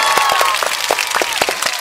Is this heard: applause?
yes